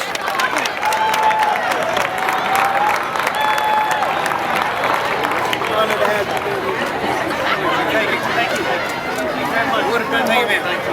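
A crowd at a high school athletic Hall of Fame ceremony applauds its inductees, with dense, steady clapping mixed with chatter and scattered cheers over about eleven seconds.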